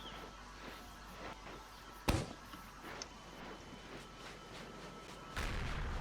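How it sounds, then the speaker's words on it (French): Small red pellets fired from a gun in Roblox Mad City burst with one sharp, loud crack, followed by fainter popping bursts and a louder rumble near the end. "Voilà, ce sont des petites balles rouges qui explosent."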